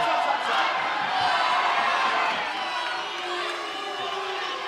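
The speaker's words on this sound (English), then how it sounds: "That headlock drawing the ire of the crowd here inside Commerce Casino" A boxing crowd at Commerce Casino reacting to a headlock, a broad roar of jeers and shouts that swells and then settles, with a commentator talking over it.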